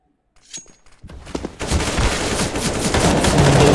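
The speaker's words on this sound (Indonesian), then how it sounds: "One deagle kembali. 3 deagle. 3 peluru bersarang di badan dari Ice" Counter-Strike: Global Offensive match play during an online esports tournament, with loud, sharp in-game gunshots that start sparse and then build into a dense, sustained barrage of overlapping fire.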